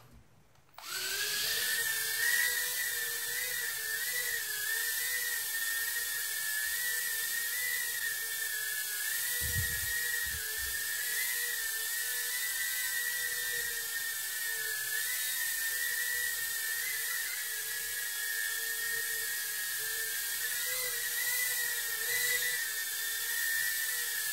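A small quadcopter drone fitted with a larger-capacity battery spins up and hovers nearby, its motors holding a steady, high-pitched whine for about twenty seconds after starting abruptly.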